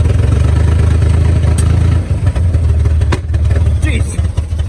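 1965 Chevrolet Corvair engine, rescued from a crusher, pulling in second gear: a loud, close, rough steady drone with a brief dip and a few clanks as it keeps running.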